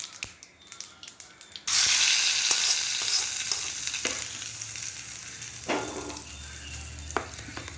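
Mustard seeds, urad dal and asafoetida hit hot oil and burst into a loud, steady sizzle and crackle, with a few sharp pops and spatters over the hiss after a quiet opening.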